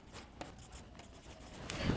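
Pen scratching across paper while working through a class 9 maths assignment, soft intermittent strokes close by with no talking, getting slightly louder toward the end.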